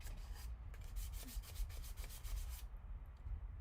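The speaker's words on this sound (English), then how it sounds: "I'm killing myself with this sandpaper." Sandpaper rubbing back and forth on a surface in quick, steady strokes, loud and close, with a continuous gritty scraping that stops abruptly near the end.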